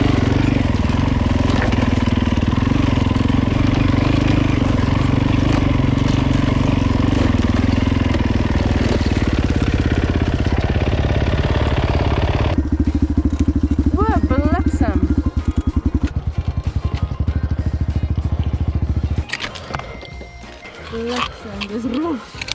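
A Yamaha WR dirt bike ridden along a railway through thickening bush makes odd, uneven engine noises, a loud close roar that shifts and stutters, drops away near the end with wind buffeting, no clear talk.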